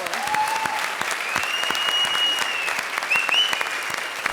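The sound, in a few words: standing ovation applause for performers on comedy show stage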